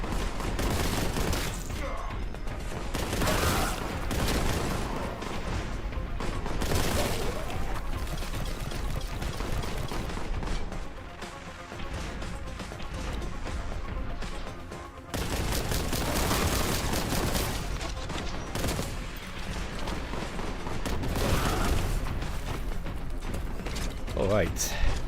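Dense, continuous bolter gunfire from a Warhammer 40K video game, heavy mechanical rattling bursts layered with game effects, loud and sustained with brief dips in intensity.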